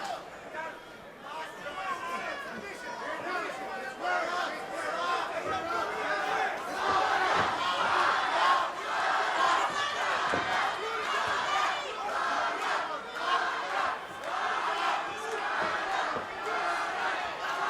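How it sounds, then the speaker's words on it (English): A Houston crowd at a Legacy Fighting Alliance MMA event boos and jeers a fighter, a loud, dense, sustained roar of many voices that swells and surges throughout, with voices mixed into the din. "they boo and jeer him here in Houston"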